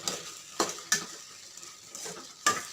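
Chicken with salt and pepper sizzles in a pan while a utensil stirs it, with a few sharp scraping strokes against the metal over a steady frying hiss.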